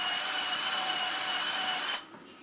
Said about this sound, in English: I got my drill and a little brush and everything here.